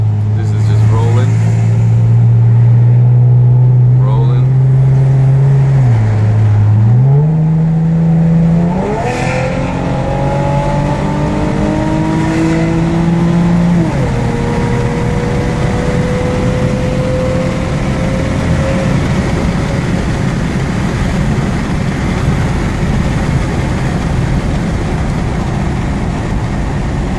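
Loud 2013 Camaro engine and exhaust revving up through the gears, with pitch climbing and dropping at shifts, then settling into a steady, fading drone as the car rolls on; a voice may speak briefly over it.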